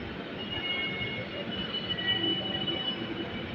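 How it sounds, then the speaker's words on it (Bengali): A metro rail train runs at a station on a busy Friday, giving a steady rumble with thin squealing wheel tones throughout, heard from nearby and with no talking. "একটু পরেই হচ্ছে কিন্তু আমাদের ট্রেনটা হচ্ছে এই গেটটা খুলে যাবে।"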